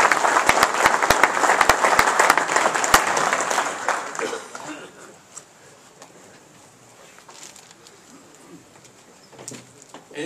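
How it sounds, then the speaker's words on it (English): A meeting audience at a state annual meeting gives a round of applause: loud, crowded clapping with sharp individual claps for about four seconds, then fading to scattered murmurs and faint room noise. "Let's give a warm round of applause to Mr. Dean Norton."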